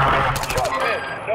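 Rapid automatic gunfire crackles in a short burst during a Call of Duty Warzone match, loud and close, with a player's voice talking over it.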